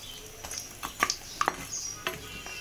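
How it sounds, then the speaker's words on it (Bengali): Bori (lentil dumplings) frying in a pan, giving a soft steady sizzle with a few sharp ticks and spatters as they are turned, close and moderately quiet. "এখন বড়ি ভাজতেছি।"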